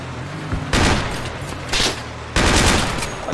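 Sustained automatic gunfire from the combat game Project Reality rattles in loud, dense bursts, with a short pause between volleys and a final long burst continuing to the end.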